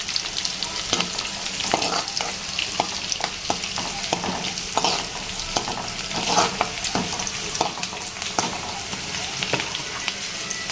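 Two crushed red chillies frying in hot oil, a loud busy crackle and sizzle close by, broken by frequent sharp spatters and stirring scrapes throughout.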